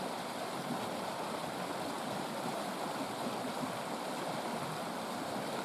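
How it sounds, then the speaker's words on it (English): Steady, full rush of a large river's water pouring past an ice jam, a continuous broadband roar of flowing water with no pauses or voices. "A lot of gallons of water moving past here."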